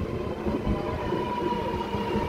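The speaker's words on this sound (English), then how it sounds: "Metro approaching platform 3" A Sydney Metro train pulls into a platform at Chatswood station, a steady low rumble of rolling wheels with a faint thin tone above it, moderately loud and unbroken.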